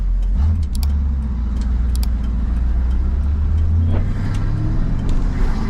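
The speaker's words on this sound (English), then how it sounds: "Coming up to a stop. Downshifts really smooth." A 1967 Chevrolet Camaro with a 4-speed manual gearbox rolls to a stop, its engine rumbling low and steady inside the cabin as the revs shift through downshifts, with a few light metallic jingles.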